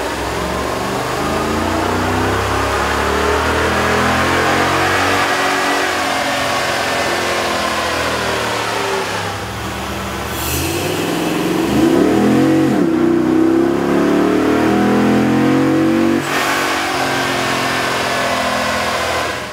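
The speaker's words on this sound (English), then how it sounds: "we ran the vehicle on the dyno to test the sound comparison versus the stock intake" A Dodge Ram 1500 pickup's 5.7L Hemi V8 fitted with a K&N air intake revs on a dyno, a steady loud engine drone that climbs and surges through repeated throttle rises.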